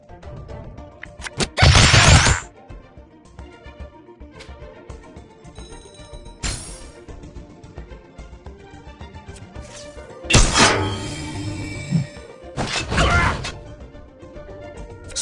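Sharp crashing smash effects in the Skylanders Battlecast video game as enemy gear is broken, several loud bursts standing out against a quieter background of game tones and chimes.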